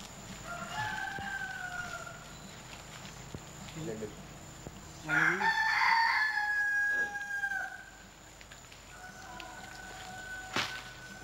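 A man imitates a bird call to lure mangoa or udo birds toward a glue-covered branch on Duff Island, giving a few bright whistled calls, loudest in the middle, amid outdoor rooster crowing and background noise.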